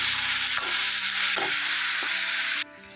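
Steady, bright sizzling of potatoes frying in a pan, with a few soft clinks of a spatula stirring, then the sizzle drops to a quieter hiss near the end.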